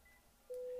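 After a quiet moment, one steady electronic telephone keypad tone starts abruptly and holds until the end, as an extension is dialed for a call transfer.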